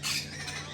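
A cockatoo lets out one short, harsh, raspy squawk, close by and fairly loud, standing alone without talk.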